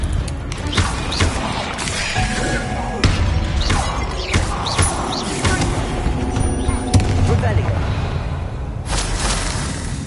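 An Incendio fire spell cast in Hogwarts Legacy, with repeated whooshing bursts and crackling impacts over continuous game ambience and music, loud throughout.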